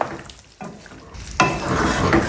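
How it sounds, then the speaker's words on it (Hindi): Chicken with green chili stirred in a pan over low heat, a close soft sizzle with scraping spoon strokes that swell louder partway through, no talking. "ग्रीन चिली मैं डाल दूंगी, ये देखें ठीक हो गया। अभी इसको हम करेंगे मिक्स"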